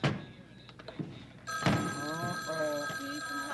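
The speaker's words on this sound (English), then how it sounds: "the ringing sound you hear is your signal to pick up the" A few soft thumps, then a telephone bell starts ringing steadily while a voice talks over it.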